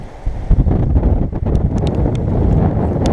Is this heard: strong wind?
yes